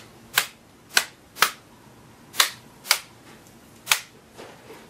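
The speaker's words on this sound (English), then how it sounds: "You can hear them clicking in." Plastic clips on an Acer Aspire 5740 laptop's LCD bezel snapping into place under pressed fingers: about seven sharp, close clicks spaced irregularly, each one crisp and distinct against a quiet room.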